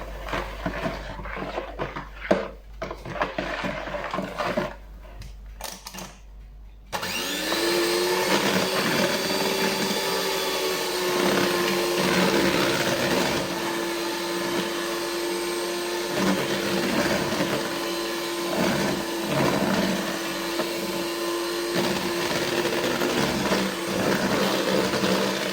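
An electric mixer whirs steadily as it beats chocolate chip muffin batter, starting after a few seconds of quieter handling and running loud and continuous to the end, its pitch wavering slightly.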